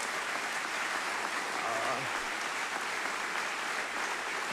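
Steady applause from a crowd fills the whole stretch, a dense even clapping with no pauses.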